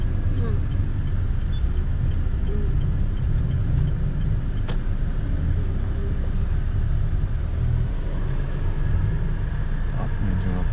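Steady road traffic rumble of passing cars, continuous and fairly loud throughout, with faint voices underneath.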